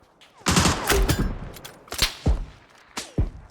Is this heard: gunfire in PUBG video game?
yes